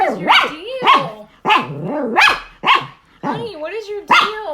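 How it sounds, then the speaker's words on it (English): A dog barks repeatedly at a cicada, six or seven loud, close, rhythmic barks with whiny yelps, each bark separated by brief pauses, with no one talking. "is she barking because of the cicada or because of the baby bunny?"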